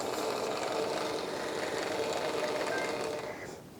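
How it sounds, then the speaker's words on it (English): A Janome MC15000 sewing machine runs its bobbin winder with a steady, close motor whir and a faint rattle that holds evenly and then fades slightly at the end. "I can turn my bobbin winder on"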